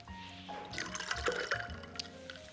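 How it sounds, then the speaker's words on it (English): Soda poured over a lavender cocktail in a glass, a soft liquid pour and fizz lasting about a second and a half, quiet and close, with a faint hum underneath and no talking. "I'm going to top it off with a little bit of soda"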